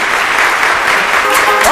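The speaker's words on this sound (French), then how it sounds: "Je vous demande d'applaudir très très fort" A concert audience claps loudly and continuously for a dancer on stage, a dense, close wash of applause with voices mixed in.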